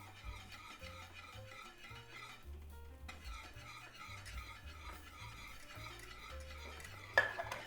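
Shredded cheese is stirred into a thickening Mornay sauce in a pan off the heat for a Kentucky Hot Brown. Soft, continuous scraping and swishing plays under background music, ending in a sharp utensil clink.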